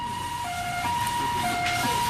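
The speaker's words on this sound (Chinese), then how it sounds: "救护车随赶来救援。" An ambulance siren wails at a street intersection in Taiwan, heading to a traffic accident where a police officer was struck by a motorcycle. Its steady alternating tones are moderately loud over road noise.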